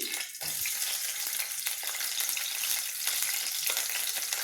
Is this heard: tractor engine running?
no